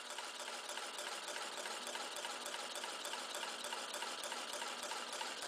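A Newman motor drives a 19.375-inch fan, giving a steady mechanical whir and rapid rattling buzz with rushing air that holds constant throughout, close and with no talking.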